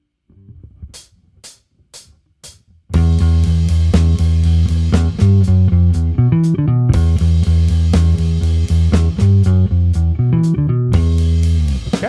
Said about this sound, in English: I'm going to focus on one particular section where we get the bass playing pretty much solo